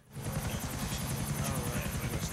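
Helicopter in GTA 4: The Ballad of Gay Tony, a loud steady rotor chop with rapid regular beating throughout, running alone without talk after a quick start.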